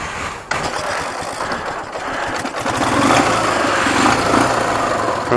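A motorcycle engine cranks and sputters without catching, its rough mechanical churning running continuously and growing slightly louder toward the end, close up with no talk over it.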